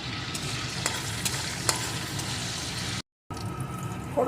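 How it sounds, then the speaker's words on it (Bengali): Whole cumin and a dry red chilli fry in hot oil with a dense, continuous sizzle and crackle, broken by a brief silence before the frying resumes. "এখন ওই তেলের ভিতরে দিয়ে দেবো গোটা জিরে একটা শুকনো লঙ্কা"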